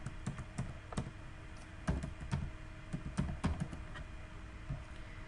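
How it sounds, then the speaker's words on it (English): Keys clatter on a computer keyboard while text is entered in Microsoft Access, a quick uneven run of close, crisp taps with short pauses, alone with no voice. "Let's say I've typed status."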